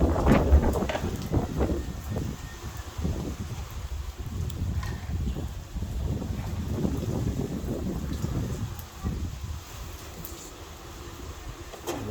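Strong wind gusting around the Picton port terminal, a steady broadband roar buffeting the microphone for the whole stretch with low rumbling surges and no talk over it.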